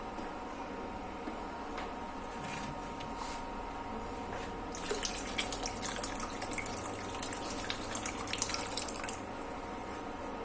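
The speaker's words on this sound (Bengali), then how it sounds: "একটু অল্প পানি দিয়ে এটার মধ্যে একটু বেশি পানি দিয়ে দিলাম" Water is poured into a pot of Bogura-style potato curry, starting as soft trickles and dripping, then swelling into a steadier splashing pour about halfway through.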